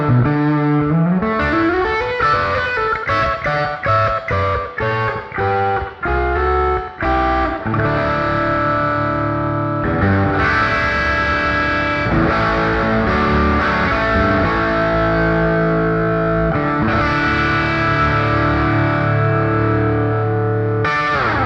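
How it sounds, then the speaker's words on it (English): Maybach Marilyn electric guitar on the bridge pickup with distortion and slapback delay, played alone as loud, continuous riffs and chords with short echoed repeats, choppy stabs early and sustained ringing notes later. "I mean, it has to have slapback delay"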